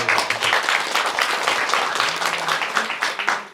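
Audience at a Buddhist temple dharma gathering claps continuously, a dense, steady wash of applause throughout with faint voices mixed in.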